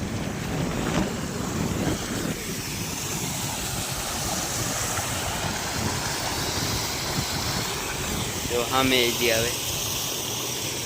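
A small stream or waterfall carrying muddy water rushes in a continuous outdoor wash, while a person talks over it and faint chirps come in near the end.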